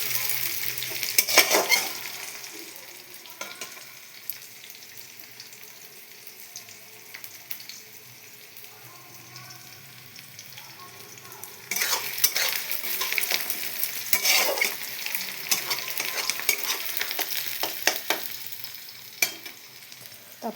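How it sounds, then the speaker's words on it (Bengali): Onions frying until browned, a constant close sizzle in the pan with bursts of stirring and scraping strokes near the start and again through the second half. "তারপরে এই যে পেঁয়াজটা আমি লাল লাল করে ভেজে নিচ্ছি।"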